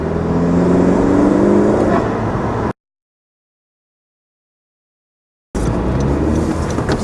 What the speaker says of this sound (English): listen to somewhat of a low RPM high load. You can hear it.